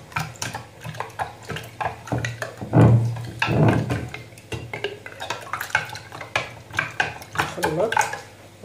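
A spoon stirring a zucchini and chicken gratin mixture in a pot, giving repeated scraping and clinking strokes at close range, with a voice talking at times.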